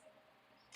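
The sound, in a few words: phone notification beep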